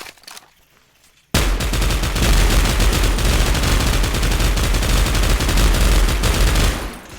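Sudden burst of sustained, rapid MG42 machine-gun fire in modded Minecraft, loud and dense, running for several seconds before cutting off.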